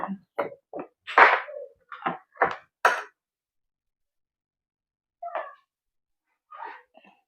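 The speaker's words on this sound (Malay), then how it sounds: "Kalau goreng ayam mula nak bersin." A short burst of sharp, breathy sneezes in quick succession while chicken fries, fairly close, followed by silence and then two fainter sniffly bursts.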